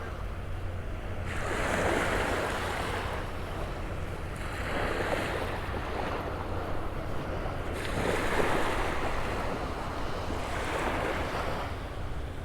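Ocean waves break on the beach at Delnor-Wiggins Pass State Park, rolling in as broad washes of surf every few seconds beneath a constant rumble of wind buffeting the microphone.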